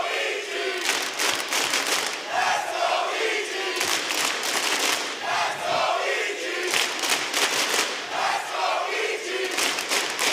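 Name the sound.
esports arena crowd cheering at Six Invitational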